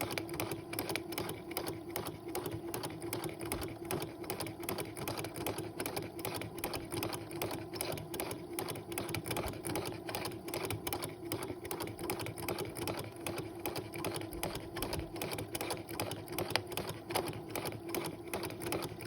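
A sewing machine runs fast and steadily, stitching a single feather design along drawn lines, with a dense, even mechanical chatter that continues without a break from start to finish.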